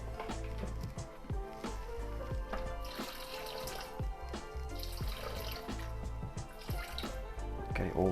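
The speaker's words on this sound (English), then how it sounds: "Next, 70 grams of water," Hot water from a kettle is poured into a Thermomix TM6 while a red wine sauce is made, giving a continuous trickling, splashing stream with small drips, close and fairly quiet.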